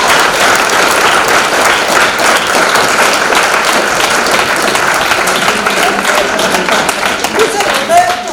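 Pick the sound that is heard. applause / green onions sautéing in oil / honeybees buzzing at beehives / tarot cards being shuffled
applause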